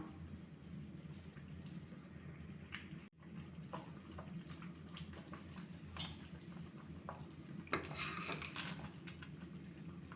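Cashews and coconut pieces drop into a pot of boiling wheat payasam, giving scattered soft clinks and stirring sounds over a steady low bubbling simmer, close and fairly quiet, with no talking.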